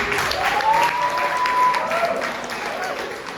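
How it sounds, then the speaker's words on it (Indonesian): A graduation ceremony audience breaks into steady applause, dense and fairly loud, with a faint whistle-like tone gliding through the middle and some voices mixed in. "Tepuk tangan."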